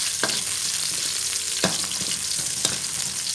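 Chilies stir-fried in a pan for mixed vegetables with pork give a steady close sizzle, punctuated by three sharp spatula knocks against the pan, with no voices.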